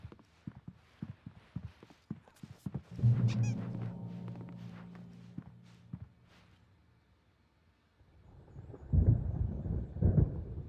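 Storm thunder rolls in the Alan Wake video game, low rumbles swelling near the middle and again at the end, mixed with clip-clopping footfalls and a faint voice early on.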